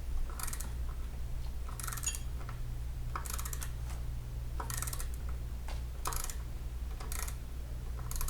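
A torque wrench clicks as it reaches torque on the valve cover bolts of a 2010 Dodge Caravan: about six sharp ratcheting bursts at steady intervals, close by, over a constant low shop hum.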